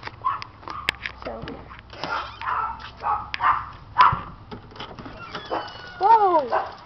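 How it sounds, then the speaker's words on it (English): Several neighborhood dogs barking and yipping outdoors, with scattered barks throughout and whining toward the end, mixed with a person talking nearby. "Yeah, you can hear the dogs barking."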